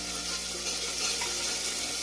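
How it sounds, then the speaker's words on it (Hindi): Onions frying in a pan for lauki sabji, a steady, even sizzle that holds without a break over a couple of seconds, with no voices. "प्याज को हमने हल्का ब्राउन होने तक भूनना है"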